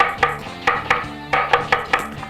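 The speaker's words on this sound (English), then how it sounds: "I'm going to start cutting the onions" A knife roughly chops onions on a board, eight or so sharp, fairly regular knocks close by with no talking.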